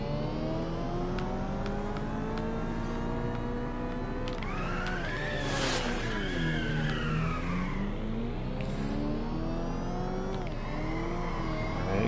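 A race car engine in the drifting game Inertial Drift revs and whines continuously through a lap, pitch rising and dipping with gear changes and corners, loud and unbroken with no voices.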